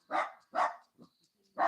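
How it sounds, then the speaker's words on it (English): A dog barking nearby, three sharp loud barks with a short soft yip between them, alone without other sound. "to be able to hear barking"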